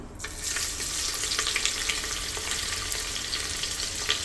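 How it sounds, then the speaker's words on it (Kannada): Onions sizzle and crackle in hot oil for veg pulao, a close, steady frying hiss dotted with small pops, with no voices. "ಈರುಳ್ಳಿ ಸ್ವಲ್ಪ ಫ್ರೈ ಆಗಲಿ"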